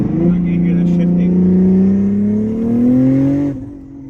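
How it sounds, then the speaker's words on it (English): Toyota A90 Supra with a stage 2 transmission and billet converter pulling hard in third gear, its engine note rising steadily and loudly for several seconds before cutting off abruptly at a shift. "So I'll just demonstrate like a third gear pull."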